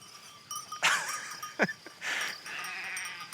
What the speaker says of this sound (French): guider leurs 80 brebis sur une nouvelle parcelle dans les hauteurs